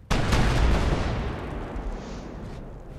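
In the video game Smalland, a cannon fires a single loud boom that rolls out into a long fading rumble.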